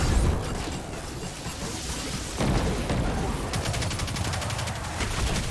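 Rocket launcher fire and dense gunfire in the Destiny 2 Communion lost sector, loud continuous game combat with booming blasts and rapid shots layered throughout.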